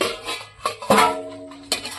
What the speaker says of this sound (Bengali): এখন ঢাকনাটা আমি উল্টে নিচ্ছি